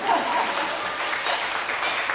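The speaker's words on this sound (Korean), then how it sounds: "이럴 때 박수 한번" Applause from an audience at a Jeju Green Party political speech, a steady dense patter of many hands clapping throughout, fairly quiet and distant with no talk over it.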